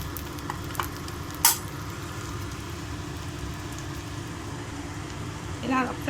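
Bread slices fry in a spoonful of ghee for double ka meetha, a soft, steady sizzle with a few sharp spatula taps and scrapes close by, alongside a low background hum.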